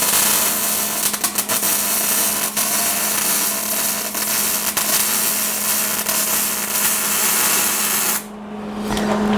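A Millermatic 211 MIG welder lays a bead on cut steel pieces, giving a loud, steady, close crackling buzz with small pops that cuts off near the end and leaves a low hum.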